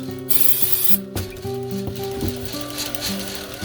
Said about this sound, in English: We're going to get some PJ1, spray it right on those gears.